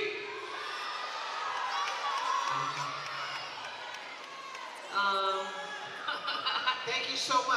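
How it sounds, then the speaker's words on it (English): A live audience cheers and whoops for contestants at the Hura Tahiti 2018 event, a mid-distance crowd swell with shouts and laughter, rising again near the end. "I want you to cheer really loud for who you represent."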